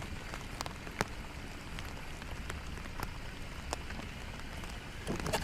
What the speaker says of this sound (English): it looks like the rain's here for a couple hours